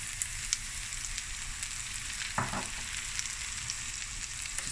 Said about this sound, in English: So now we're going to just put the mushrooms in the pan.